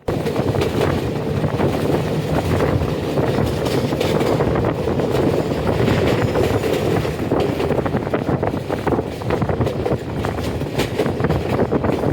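Jamalpur Express passenger train running from Dhaka to Jamalpur, a dense continuous rumble with clattering rail noise and wind buffeting, loud and steady throughout.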